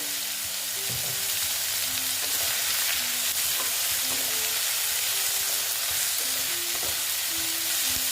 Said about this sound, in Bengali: তার সঙ্গে সঙ্গে পেঁয়াজও ভাজা হয়ে যাচ্ছে